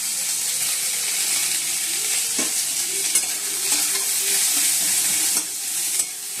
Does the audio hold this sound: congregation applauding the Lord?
no